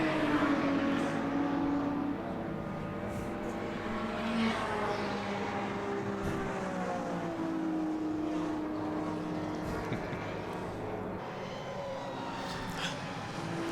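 A Ferrari Breadvan racing car driven hard around a circuit, its engine note rising and falling through gear changes, with other race cars droning alongside in a continuous loud track roar and no voices.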